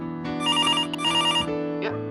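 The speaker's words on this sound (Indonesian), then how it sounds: "Ya, ada telepon masuk" An incoming phone call ringtone rings out loud and close, a repeating electronic melody in two bursts, heard alone with no talk over it, during a live talk show broadcast.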